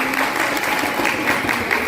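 Audience at a Holi celebration applauds, a steady patter of many hands clapping at moderate volume throughout the short stretch, with no voices standing out.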